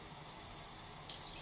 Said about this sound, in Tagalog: Lagyan po natin ng 2 basong tubig.